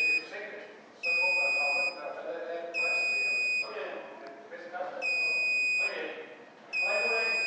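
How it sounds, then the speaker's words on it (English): An AP 8500 gate motor gives a series of long electronic beeps after its learn button is pressed, four steady tones spaced about a second apart with someone talking in the gaps. "Start pressing the learn button in the motor. Now it beeps."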